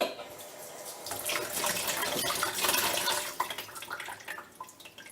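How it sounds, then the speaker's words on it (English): Tap water running into a clogged bathroom sink to fill it, a rushing splash that swells in the middle and then eases into gurgling, with no talk. "I think most of this will go down if we fill the sink up"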